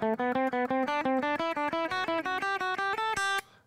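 An electric guitar with effects picks a scale in groups of three, with evenly spaced single notes climbing gradually in pitch, played alone and ending with a ringing top note.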